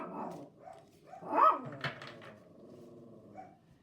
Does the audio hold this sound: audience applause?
no